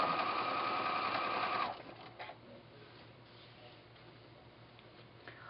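A sewing machine stitches binding onto a quilt with a steady, close mechanical hum that stops partway through, leaving quiet room tone, a few light clicks and a short spoken remark.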